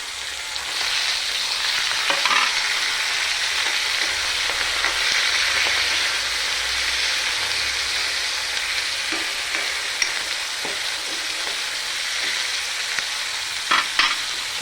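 Tomatoes fry in a hot pan for a whole masoor dal curry, giving a steady, close sizzle with occasional stirring clatter throughout, with no talking.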